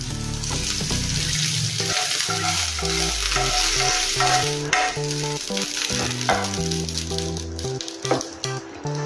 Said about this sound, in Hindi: अभी जो हमारा तड़का है वो इसमें डालेंगे अपने चटनी में